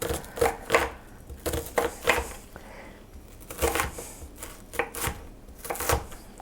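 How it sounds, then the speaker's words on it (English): A blunt kitchen knife chops through mushrooms on a board in a series of close, uneven thuds and dull crunches, alone without talk. "My knife is not the sharpest, so it's not cutting great."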